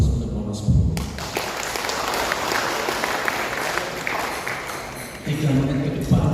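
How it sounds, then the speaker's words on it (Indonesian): An audience at an anniversary celebration applauds the Wonosobo delegation with a dense burst of clapping, loud and sustained, while a voice speaks over the start and end. "Aplaus untuk Wonosobo."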